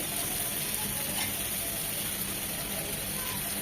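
Cauliflower, tomato and potato frying with spices in a pan, an even, unbroken sizzle and crackle held close and steady throughout, with no talking.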